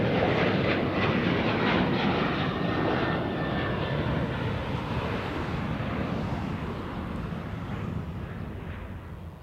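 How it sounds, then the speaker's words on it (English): A Boeing 737-800 airliner departs Bozeman Yellowstone airport, its jet engines a loud broadband roar that holds steady and slowly fades as it climbs away, with no voices. "737-800 departing."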